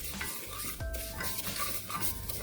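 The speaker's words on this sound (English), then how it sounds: "add the vermicelli and then start roasting them" Vermicelli roasting in ghee for sheer khurma, with a steady close sizzle under repeated stirring scrapes and a brief clink of a utensil against the pan.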